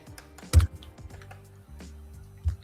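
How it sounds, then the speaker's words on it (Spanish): Light Morse code clicking taps on a telephone over a low hum, a cluster of quick taps then sparse single knocks, close and fairly clear. "Creo que no es tecleo, creo que es Morse."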